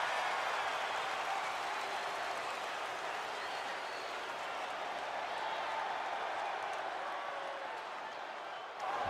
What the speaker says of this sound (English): This capacity crowd is waiting with bated breath.